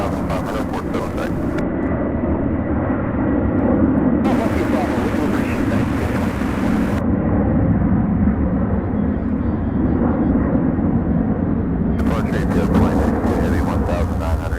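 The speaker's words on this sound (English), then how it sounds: "Look how steeply it's taken off." A UPS heavy freighter jet taking off steeply at the airport: a loud, continuous engine roar with broadband rumble and wind buffeting on the microphone, while radio voices talk intermittently over it.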